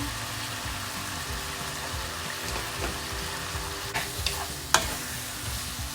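Instant noodles are stir-fried with chicken, prawn and seasoning in a pan, giving a steady close sizzle with low scraping stir sounds and a few sharp clinks of the utensil against the pan. No one speaks.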